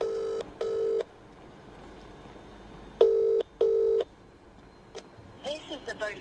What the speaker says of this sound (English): Just going to make a normal call, see if we can make that louder.